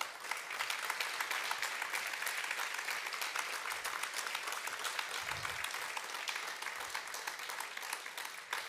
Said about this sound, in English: So one more round of applause for yourselves and for the awardees.